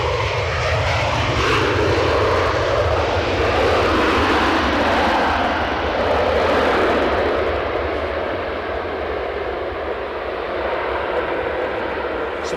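A fixed-wing aircraft engine roars loud and close at Edinburgh Airport, a broad sustained rumble that swells and then slowly fades over several seconds, with no talk.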